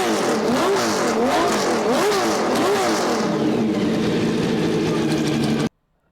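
A Porsche 917K race car engine revs loud and close in rising and falling sweeps, then settles into a steadier roar before cutting off abruptly.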